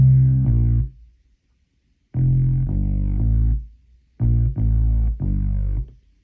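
The stock Sick Bass preset on an OP-1 Field synthesizer plays loud, deep, distorted bass notes in three short phrases separated by silent gaps, with the notes held and then cut off cleanly.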